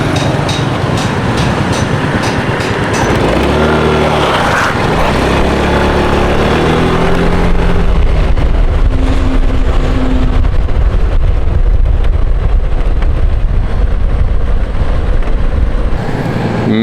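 A moped ridden along a road in Thailand drones with a continuous engine hum and heavy rushing wind noise, loud and close the whole time.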